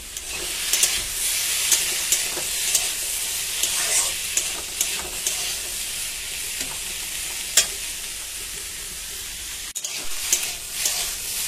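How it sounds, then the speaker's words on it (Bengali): Pumpkin, potato and eggplant chorchori fries and sizzles in a single wok while being stirred. Continuous close hiss is broken by irregular scraping and clinking clicks from the spoon. "আর এখানে কুমড়ো, আলু, বেগুন একটু নাড়াচাড়া করে নিয়েছি।"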